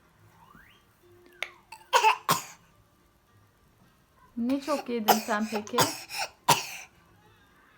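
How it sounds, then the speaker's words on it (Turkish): A child coughs a few times in short, harsh bursts, mixed in with nearby speech from a child and an adult. "Bakın arkadaşlar çok öksürüyor"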